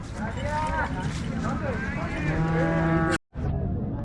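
A Holstein Friesian cow at a cattle market in Baramati moos in long, drawn-out lowing calls, close to the recorder and loud, with overlapping speech and a brief dropout near the end.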